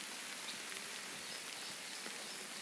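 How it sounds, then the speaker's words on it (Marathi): Heavy rain falls outdoors in the hills near Panshet, Pune, as a soft, steady broadband hiss with no voices. "भरभर पाऊस पडतोय"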